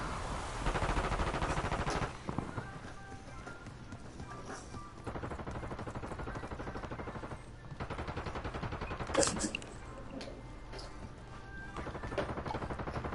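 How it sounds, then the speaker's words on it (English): Rapid gunfire bursts in Call of Duty: Warzone on Rebirth Island, repeated automatic volleys over a dense, steady layer of game noise, with one sharper, louder crack near the end. "Keep shooting."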